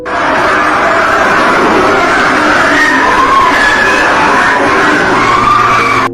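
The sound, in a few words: recorded screams said to come from a deep borehole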